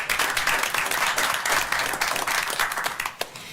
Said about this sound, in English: So let's give all of them a round of applause for their service